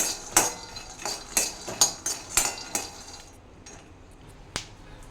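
Peanuts dry-roasting in a pan for stuffed brinjal curry, stirred with a metal spoon: a run of sharp clinks and scrapes in a steady rhythm, close and fairly loud, thinning out toward the end with one last knock.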